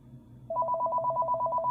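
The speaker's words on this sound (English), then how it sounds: "The phone's ringing." A landline telephone starts ringing in a home with electronic warbling double-tone bursts in a steady rapid rhythm, loud and close, over a low background hum.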